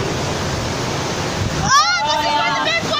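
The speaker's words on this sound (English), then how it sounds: "it's a big waterfall" Water crashes steadily from a waterfall on a water park rapids ride, loud and close. Excited voices shout over the rushing water near the end.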